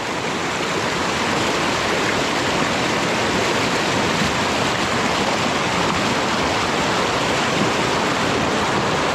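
A strong river current rushes in a steady, loud, continuous roar of flowing water, unbroken and close throughout with no voices.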